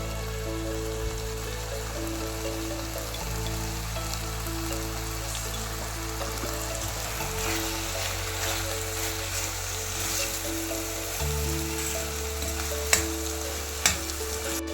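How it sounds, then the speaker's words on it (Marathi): Kadvya val bhaji with onion-garlic masala sizzles steadily in oil as it is sautéed, a continuous hiss with a low hum beneath and a couple of brief knocks near the end. "तेल सुटेपर्यंत मस्त अशी ही भाजी परतून घ्यायची आहे"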